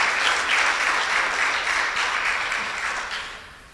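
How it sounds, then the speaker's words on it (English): At an enterprise grant awards ceremony, an audience applauds in a dense, steady burst of clapping that tapers off over a few seconds. "Give these people a round of applause."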